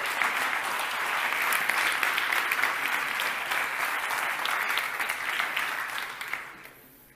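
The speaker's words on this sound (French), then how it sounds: "Ok, on l'applaudit bien fort" An audience claps steadily for a volunteer invited onstage at a mentalist show, a full even round that fades out over the last second.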